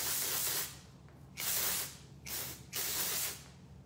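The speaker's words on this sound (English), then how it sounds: "It's a dry volume spray." Several short hissing bursts of an aerosol dry volume hair spray, close to the microphone, separated by brief pauses.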